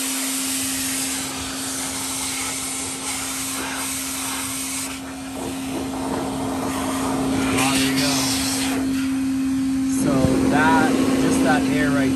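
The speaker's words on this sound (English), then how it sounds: "So blowing this air on it, I was able to pretty easily open up those little back vents right there." Compressed air hisses steadily close up while blowing dust out of a refrigerator's back vents, a constant loud rush with a steady hum under it, and someone talks over it in the latter part.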